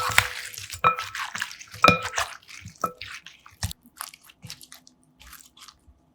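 Crisp crunching bites into lotus root salad, a few loud snaps followed by softer chewing, close to the ear with no talking.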